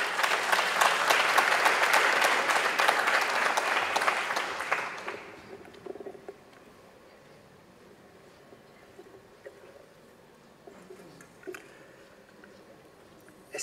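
Applause at an international circular economy forum in Peru welcomes a speaker, strong sustained clapping for about five seconds that fades into a quiet room with faint stray noises.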